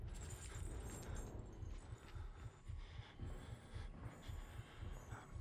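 A heartbeat from the horror video game Outlast throbs as a run of soft, regular low thumps over a faint hum, with no voices.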